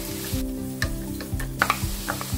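Onions and green chilies frying in a pan, with a steady close sizzle and a series of rhythmic scraping thumps from stirring, no talking.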